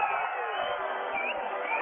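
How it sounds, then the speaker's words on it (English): Baseball crowd at a spring training game between the Los Angeles Dodgers and Milwaukee Brewers applauding the bat boy, a steady, distant wash of clapping and cheering from the stands. "Big applause you hear is for the Bat Boy"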